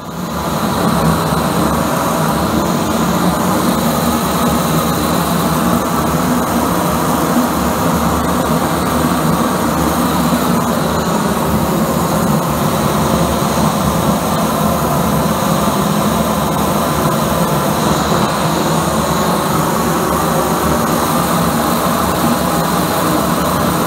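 A high-velocity propane burner roars with a loud, steady flame, a dense continuous rush that holds unbroken throughout with no voices over it.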